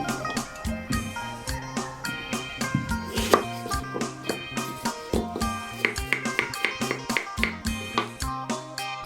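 Knife chopping winter melon into thin, bite-size slices on a cutting board, a quick, close, fairly loud run of regular chops under background music.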